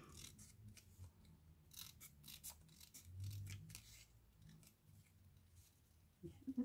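Scissors cutting paper for an art journal, with quiet, close, repeated crisp snips and soft rustling of the paper, done slowly and spread through the moment.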